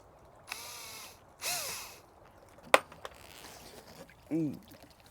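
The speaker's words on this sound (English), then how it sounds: "grab the drill." A power drill whirs in a few short bursts, separated by clicks and brief pauses, fairly close with no talking.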